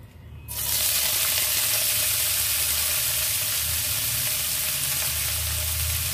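Chopped carrot, onion, cabbage, ginger, garlic, green chilli and capsicum hit a hot pan for soyabean noodles, opening with a short quiet lead-in that bursts into a loud, steady, close sizzle.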